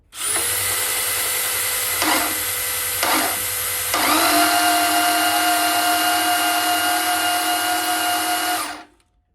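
A power drill spinning the oil pump of a 1969 Dodge Super Bee 383 engine whirs steadily up close for several seconds, briefly dipping twice before running on at a higher, strained pitch and winding down.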